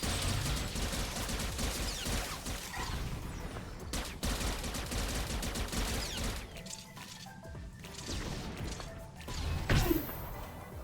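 Rail Shot attacks and rapid blaster fire from an Arsenal Mercenary in a SWTOR raid, dense and continuous, with sharp impacts and bursts in a busy battle mix.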